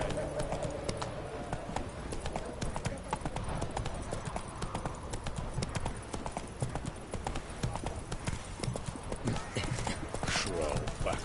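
A horse gallops in The Witcher 3, with steady clip-clop hoofbeats throughout and a brief whinny, loud and close, while a voice talks over the hooves.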